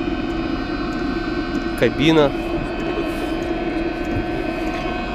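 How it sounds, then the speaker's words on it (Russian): A parking heater runs in a Scania 113 truck cab, a steady droning hum with harmonic tones that holds throughout, while someone briefly speaks over it. "автономка тут молотит"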